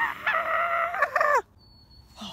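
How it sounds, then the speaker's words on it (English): A rooster gives a single loud, close crow with a drawn-out, wavering call that breaks off sharply, followed by near silence. "All I hear are birds."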